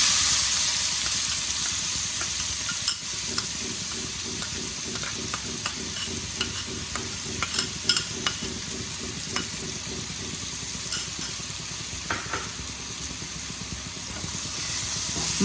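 Chopped onion and garlic fry in hot oil with tempered spices for a restaurant-style chicken keema. A steady close sizzle runs under repeated scraping and stirring clicks from a spatula in the pan.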